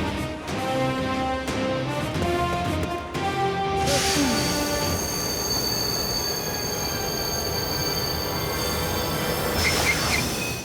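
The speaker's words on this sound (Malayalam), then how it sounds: "ഐ ആം സോറി ശിവ, ഇനി ട്രെയിൻ മുന്നോട്ട് കൊണ്ടുപോകാനാവില്ല" A train rolls along with loud, sustained metallic wheel squeals ringing over the rumble of the cars, close by and continuous, with no voices.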